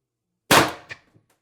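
A single sharp shot from an Umarex TR50 CO2 air pistol with a tuning barrel extension, loud and close, with a quick decaying ring and a few faint metallic ticks afterward.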